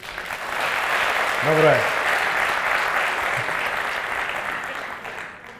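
Live concert crowd applauding at a comedy show, a dense, loud wall of clapping sustained across the whole stretch before tapering slightly at the end, with a brief spoken voice over it.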